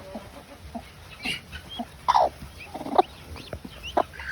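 Young chicks call in short, high peeps and chirps scattered across the moment, close by, with a few louder bursts and a quiet background, and no talk.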